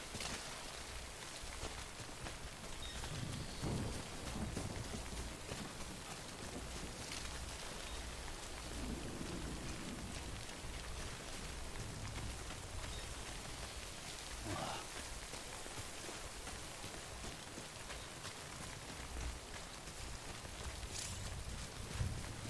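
Rain falls steadily in the Death Stranding video game, a constant hiss of drops on surfaces with occasional heavier patters, lasting throughout.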